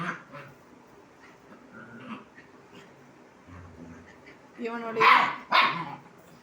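Puppies play-fighting give a few soft growls, then sharp high yips and barks near the end. A person talks quietly underneath.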